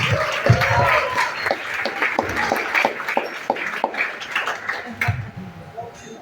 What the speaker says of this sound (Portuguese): Você que gostou, aplauda bem forte para Jesus.